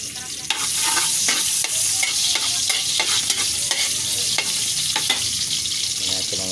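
Ginger sautés in a hot pan at the start of a native chicken adobo. It sizzles loudly and steadily, broken by repeated scraping taps of a utensil as it is stirred.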